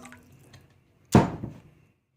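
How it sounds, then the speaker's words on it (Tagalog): Water is poured into a cooking pot of vegetables with sardines: a sudden, close splash and gush that lasts under a second before trailing off, after a quiet start. "So lalagyan na natin ng tubig"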